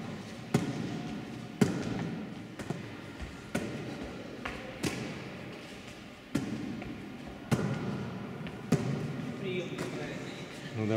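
During beginner volleyball training in overhead passing, a ball slaps against hands in a series of sharp, fairly regular hits about a second apart, with someone talking in the background between contacts.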